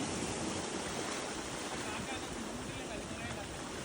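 Sea waves wash and roar continuously, mixed with blustery wind buffeting the microphone.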